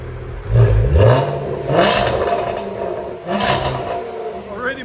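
2022 Range Rover SVR with a 5.0-liter supercharged V8, X-pipe and resonator delete, revved with exhaust valves closed: three separate loud throttle blips rising and falling, close by, with a voice between.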